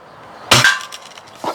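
A Daisy Red Ryder airgun pellet strikes a tin can target with one sharp, bright metallic crack and a brief ring, then a faint second tap follows shortly after.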